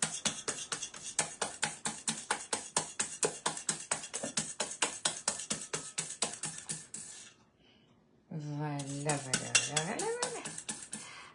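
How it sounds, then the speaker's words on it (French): A spoon stirs butter into tart dough in a bowl, making a steady, rapid series of close scraping strokes. After a short pause, a voice speaks over more mixing. "vous le mélangez jusqu'à temps que le beurre soit bien incorporé dedans"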